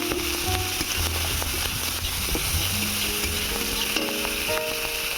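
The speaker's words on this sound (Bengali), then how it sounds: "এবারে দিয়ে দিচ্ছি পেঁয়াজ" Onion is frying in hot oil for a Bengali bitter fish dish. The oil sizzles steadily and fairly softly, with occasional stirring and scraping in the pan, and no one speaks.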